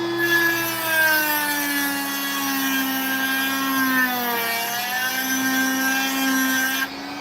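A repaired rock-crushing machine grinds opal-bearing stones with a steady, loud, droning whine whose pitch sags briefly midway and then recovers, heard alone without talk.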